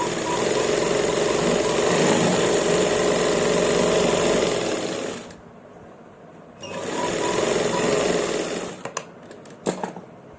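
Electric sewing machine stitching salwar fabric, a steady fast whirring drone that runs for several seconds, stops, then starts again briefly before a few small clicks near the end.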